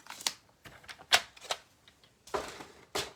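Paper cardstock being cut in half for a handmade Christmas card, a series of sharp crisp cuts and rustles at close range, some louder than others, with no talking.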